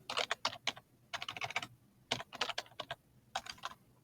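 Close, quiet typing on a computer keyboard, quick bursts of clicking keystrokes separated by short pauses, with no voices.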